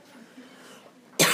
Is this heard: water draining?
no